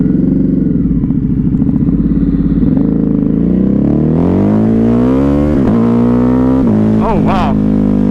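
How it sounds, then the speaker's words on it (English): A Ducati Hypermotard 950 motorcycle pulls away hard and accelerates, its loud, close engine note climbing steadily in pitch with a few quick rises and shifts near the end. "All right, off we go."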